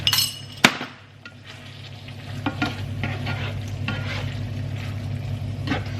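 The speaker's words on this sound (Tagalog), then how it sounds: "Kailangan na natin siyang ihalo sa tubig" Stirring an ingredient into water in a home kitchen, with a spoon scraping and clinking against the container amid a steady low hum, one sharp knock near the start and a few soft taps later.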